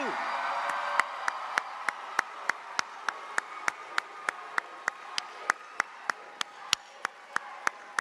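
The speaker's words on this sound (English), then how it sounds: "Join me with one more round of applause for the TRECA Digital Academy Class of 2022." Applause for a graduating high school class at an auditorium ceremony: a steady wash of many hands clapping fills the hall, with sharp louder claps popping out at regular intervals through the whole stretch.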